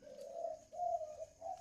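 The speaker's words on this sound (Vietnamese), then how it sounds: "Con đồng vừa gáy xong đấy." A spotted dove coos in three soft, drawn-out phrases, each rising then fading, with brief gaps between them. The calls sound fairly close, alone against a quiet background with no one talking.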